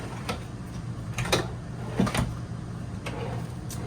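Kitchen drawers in a 2025 Forest River Salem Hemisphere Elite 36FL fifth-wheel RV slide open and shut, giving several sharp clicks and knocks spread over a few seconds against a quiet indoor hum.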